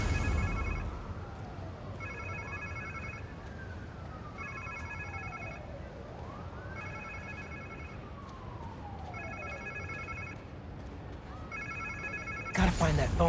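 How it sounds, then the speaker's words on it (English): A phone rings repeatedly in the Marvel's Spider-Man 2 video game, a trilling electronic ring sounding in regular bursts over a low ambient game score with sweeping tones, ending in a louder burst of noise. "Sounds like somebody's phone."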